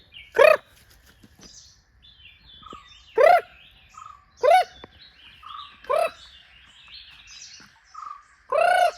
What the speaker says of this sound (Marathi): तो पक्षी बघा कसा आवाज देतोय